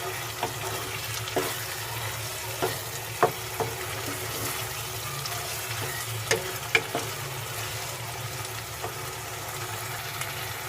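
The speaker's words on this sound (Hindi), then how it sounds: "आंच को थोड़ी सी तेज़ कर देंगे और 1-2 मिनट जो है इस तरह से चम्मच चलाएंगे" Beef keema fries in a pan over raised heat as a spoon stirs it, giving a continuous sizzle broken by regular scraping clicks and taps of the spoon against the pan, close and fairly loud, with no talking.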